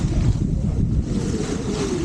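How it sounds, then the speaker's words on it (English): Strong wind buffets the microphone aboard a sailing boat on a beam reach along the south coast near Penzance, a loud continuous roar with water rushing beneath, no voices. "It's quite windy."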